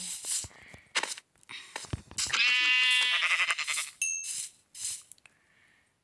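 Minecraft sheep let out a long, wavering bleat in the middle, set among sharp clicks and short in-game sounds, with a brief higher tone near the end.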